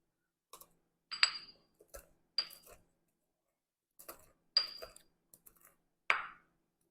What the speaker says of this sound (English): So I'm going to use my mortar and pestle and just kind of ground up approximately a quarter of a teaspoon